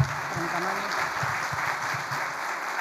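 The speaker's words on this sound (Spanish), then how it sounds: "Palacios, secretaria de la Fundación OSDE, a quien recibimos con este aplauso" Steady applause from an audience at a talk in Argentina fills a brief stretch, with a voice heard faintly beneath the clapping.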